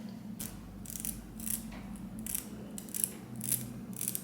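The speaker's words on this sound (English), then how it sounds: "I'm going to razor this part off. So I'm going to use an eyebrow razor" Repeated short scraping, rasping strokes of an eyebrow razor cutting lace on a lace frontal wig, in a steady rhythm, close and fairly quiet, with no talking.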